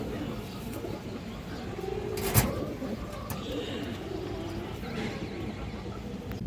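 Muslodom and Gorra pigeons coo softly in a loft, low murmuring calls over background noise with a brief sharper sound in the middle.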